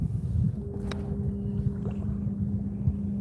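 Steady wind buffets the microphone with a low rumbling roar, gusting unevenly throughout.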